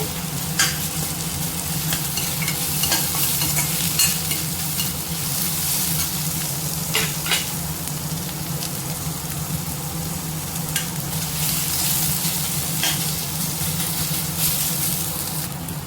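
Half a tomato sautéing in a pan for a lunch-box rice dish gives a steady, close sizzle that runs throughout, with scattered clicks and scrapes of stirring and no voices.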